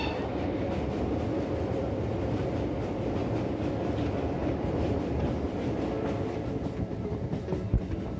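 Inside a local commuter train running from Sealdah toward Bandel, a steady loud rumble of wheels and carriage noise fills the whole stretch, with faint rhythmic clatter and no talk.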